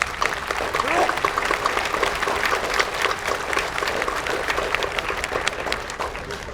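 Audience applause after an announcement at a municipal band concert featuring a singer, a steady wash of clapping held at even strength for several seconds, with faint voices mixed in.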